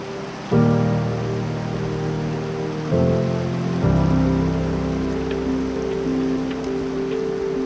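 High Sierra creek rushing over rocks during an off-trail hike, a steady broadband wash of flowing water close to the microphone with a few surges and shifts in intensity, no voices.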